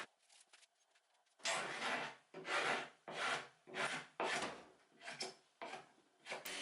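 A hand scraper strips an old paint finish off furniture in repeated rough, rasping strokes, about seven close scrapes with short pauses between them.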